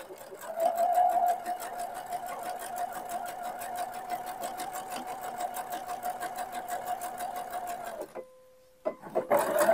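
A sewing machine stitches fabric for men's shorts in one long, steady, close run with an even rapid chatter, then stops briefly with the needle down before starting again.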